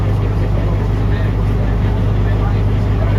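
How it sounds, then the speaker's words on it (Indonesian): Boat engine on a Komodo trip out of Labuan Bajo running with a steady low drone and hum, loud and close, continuous throughout with a constant high whine above and no clear start-up surge. "Terdengar suara mesin kapal yang dihidupkan"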